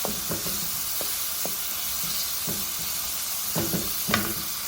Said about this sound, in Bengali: একটু জায়গা করে আমি ডিমটাও দিয়ে দিলাম মাখন দিয়ে আর একটু চিকেনও দিচ্ছি